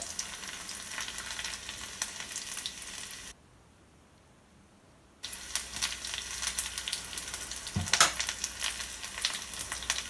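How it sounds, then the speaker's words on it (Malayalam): Mustard seeds and small shallots fry in hot oil for an ash gourd curry, giving a steady crackling sizzle with sharp pops and a brief quiet gap midway. "ഞാൻ 1 ടീസ്പൂൺ കടുക് ഇട്ട് കൊടുക്കുന്നുണ്ട്. കടുക് പൊട്ടി വന്ന് ഒരു 3 ചെറിയ ഉള്ളി ഇട്ട് കൊടുക്കുന്നുണ്ട്."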